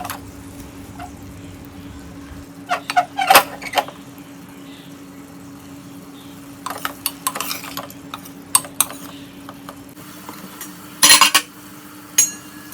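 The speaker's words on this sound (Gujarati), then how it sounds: "બધું જ એક વખત મિક્સ કરીને એકાદ મિનિટ જેવું સાંતળશું" A spoon stirs spiny gourd and tomato curry in a pan, producing sporadic scraping, clinking bursts between quiet stretches over low background hum; nobody speaks.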